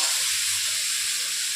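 Potatoes and tomatoes fry in oil in a pan for a simple fish curry. The sizzle is a continuous, bright hiss, close up and loud.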